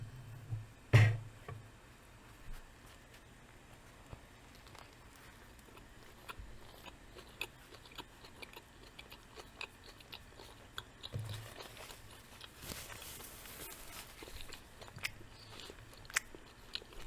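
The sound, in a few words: eating a turkey sandwich with Swiss cheese and mustard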